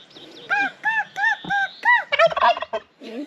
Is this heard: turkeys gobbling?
yes